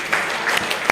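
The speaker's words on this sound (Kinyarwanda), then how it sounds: "amashyi menshi" A short burst of crowd applause at a gathering with the artists Double Jay and Kirikou Akili, cut off within a second. The clapping is close and dense, with a few sharper claps standing out.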